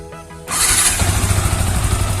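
A used motorcycle's engine catches on the first press of the electric starter after a brief quiet moment, then settles into a steady, loud, close-up idle.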